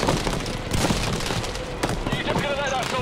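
Rapid bursts of aircraft strafing gunfire in Battlefield V crackle through a dense, noisy battle mix, with sharp impacts and booms scattered across the moment and players talking over it.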